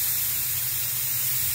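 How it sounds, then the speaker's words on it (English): A spray gun lays Deltron clear coat onto a plastic car mud flap, a steady, close, continuous airy hiss with no break and no talking. "Now we're spraying the clear coat on."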